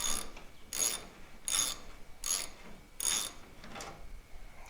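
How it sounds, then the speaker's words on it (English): A ratchet loosens a T45 star-bit fastener on a Ford F250 Super Duty tailgate, sounding as five evenly spaced bursts of clicking pawl strokes, close and crisp, with quiet pauses between. "It's a star bit. And you're just going to break it loose and unscrew it."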